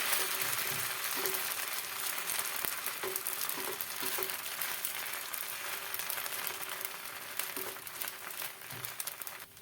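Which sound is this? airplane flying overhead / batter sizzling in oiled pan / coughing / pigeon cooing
batter sizzling in oiled pan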